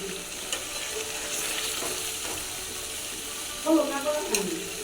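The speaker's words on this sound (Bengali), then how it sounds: "কাঁচামরিচ দিয়ে হাঁসের গোস রান্না আসছে" Duck meat cooks with green chillies in a pan, a continuous close sizzle with light stirring scrapes and a few clinks near the end, no clear talk.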